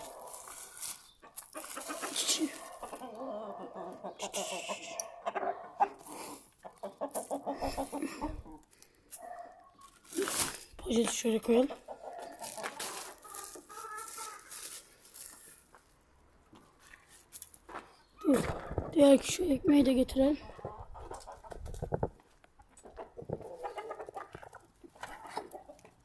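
Hens cluck and chatter inside a chicken coop, close and intermittent, while a person talks and rustles a bag nearby.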